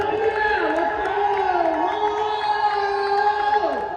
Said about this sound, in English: The crowd is excited.